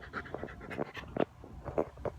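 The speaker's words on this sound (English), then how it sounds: "My dog wants to say hi, guys." A dog pants close by in quick, rhythmic breaths, several short huffs in a row with no talking.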